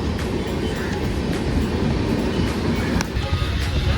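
Number 12686 MGR Chennai Central superfast express train on the line near Payyanur, heard as a loud, continuous rail rumble with faint metallic clatter. It sounds close and steady, with no speech.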